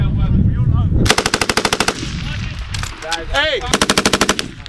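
Machine gun fire at a combined arms live fire exercise, two close loud rapid bursts with shouted commands between and around them.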